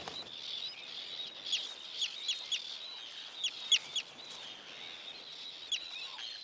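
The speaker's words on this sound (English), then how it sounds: "The terns are now working at full capacity to satisfy the whining chicks." Hungry tern chicks on the North Sea coast give thin, faint, high cries, a string of short calls spaced irregularly over a quiet outdoor background.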